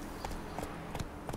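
Horse hooves clip-clop in The Witcher 3: Wild Hunt, four evenly spaced steps at a steady walking rhythm, faint and close, over a low game ambience.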